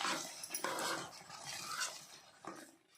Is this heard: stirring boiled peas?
yes